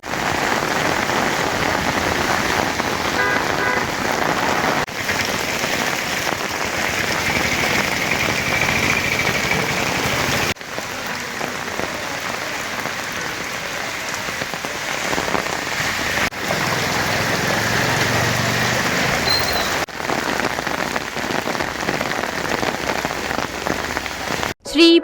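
Unseasonal rain in Udayagiri pours steadily, a dense, even hiss of drops hitting surfaces that runs unbroken for about 25 seconds, loud and close, with faint engine-like rumble underneath.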